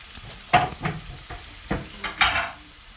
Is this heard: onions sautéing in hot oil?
yes